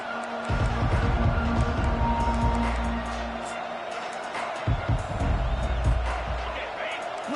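A football game crowd roars and cheers in a big stadium, a broad sustained din with surges and a few sharp bangs, heard under a commentator's voice.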